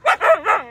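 A puppy gives a quick run of three close, loud yipping barks in under a second, heard alone at an outdoor front gate and yard.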